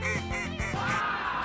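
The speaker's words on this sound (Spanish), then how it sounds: "¡Un pato!" A duck quacks several times in quick succession near the start, short nasal calls in a bright cartoonish setting, followed by a higher drawn-out tone.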